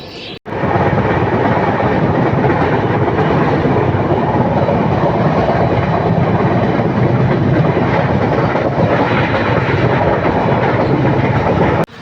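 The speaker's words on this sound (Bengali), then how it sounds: "ট্রেন এখনই ছাড়বে, অলরেডি গ্রিন সিগন্যাল হয়ে গেছে" A passenger train bound for NJP rolls out of the station with a loud, continuous roar that starts abruptly and holds steady until a sudden stop near the end.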